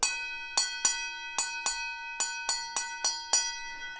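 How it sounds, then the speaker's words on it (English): A metal mixing bowl is struck repeatedly like a bell, about ten ringing hits in an uneven rhythm, each leaving a clear sustained tone that decays. "A mixing bowl is a perfect found sound for a bell"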